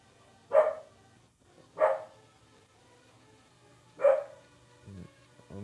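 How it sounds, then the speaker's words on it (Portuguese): A street dog barks three times at a doorway, each bark loud, sharp and separated by a second or two of quiet, followed by a couple of softer low grunts or whimpers. "Nossa, cachorro de rua ali na porta."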